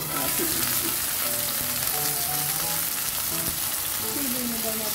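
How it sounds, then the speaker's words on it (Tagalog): Garlic frying in a pan for a milkfish dish gives a dense, continuous loud sizzle and crackle with scattered stirring sounds, close up throughout. "lagay ng ating pinipritong bawang dito"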